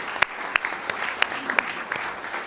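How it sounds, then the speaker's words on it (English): Sparse applause at a National Press Club luncheon, individual claps popping out distinctly over a soft room murmur, fairly faint and irregular rather than a full ovation. "I'd like to have a round of applause for all these people who've done such hard work this year"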